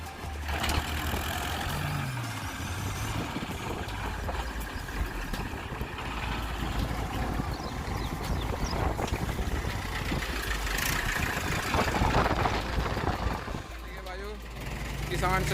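A Mahindra B-275 tractor runs along at speed, its engine giving a steady, continuous low drone throughout while someone talks over it.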